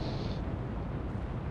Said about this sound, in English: 2 big explosions, and that large freighter is sinking.